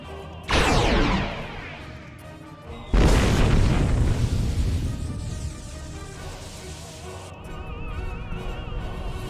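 A nanite torpedo is fired and explodes in a Star Trek video game: a sharp launch burst, then a heavy booming blast with a long rumbling decay under a low, steady background drone.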